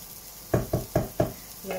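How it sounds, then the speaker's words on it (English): Onions sizzle in hot oil inside a pot for a vegetable hotpot, stirred with four quick, evenly spaced scraping strokes and a fifth starting at the end, over a steady close frying hiss. "I'm just going to give them a stir around, make sure they're all coated in some oil"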